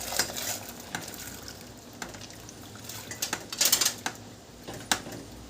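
Washed dal tipped into hot oil in a pot sets off a crackling sizzle, with stirring scrapes and sharp clinks of a utensil against the metal rim, close up, with no talking.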